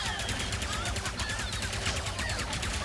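A rapid stream of gunfire from a weapon shot at a boss in Ratchet & Clank: Rift Apart, evenly pulsing throughout with busy game effects layered over it.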